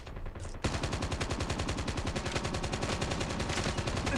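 Call of Duty Mobile gunfire: after a brief quieter lead-in, a loud sustained automatic burst kicks in with evenly spaced, rapid shots rattling steadily for several seconds.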